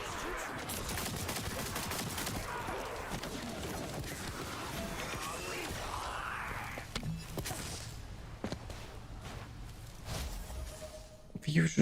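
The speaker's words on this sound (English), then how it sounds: "it's like spewing some artillery" Artillery bombardment skill firing in the looter shooter The First Descendant, a dense rapid barrage of blasts and crackling gunfire with whooshing projectiles, thinning out toward the end.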